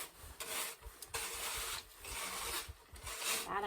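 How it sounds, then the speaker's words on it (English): A cheese-grater style rasp scraping away carving material for a sculpted letter, with repeated rough rasping strokes in a steady back-and-forth rhythm, close and fairly loud, no talking. "Something like your cheese grater, that is supposed to be able to take a lot away."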